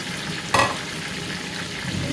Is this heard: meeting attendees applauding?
no